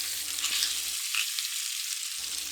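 The white part of a green onion stir-fries in a pot for a pork belly stew, a dense, even hiss of frying oil that holds steady throughout.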